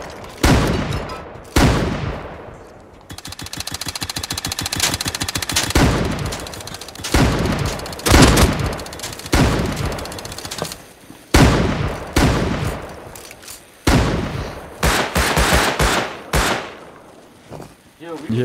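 Rapid, loud bursts of gunfire with shotgun blasts from a trap in the video game Rust during a raid, firing in repeated volleys with short gaps while players talk over it.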